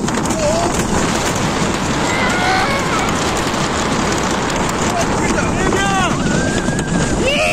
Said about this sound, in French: on a un max de vent